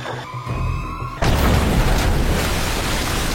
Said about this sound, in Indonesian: Dia heran kenapa rompi bom itu terpasang di tubuhnya dan meledak.